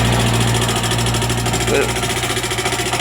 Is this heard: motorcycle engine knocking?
yes